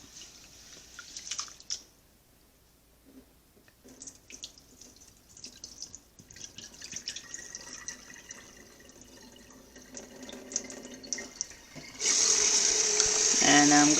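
Water sloshes and drips as idli rice is swished and rinsed by hand, in irregular splashes, then a tap runs loudly at the end.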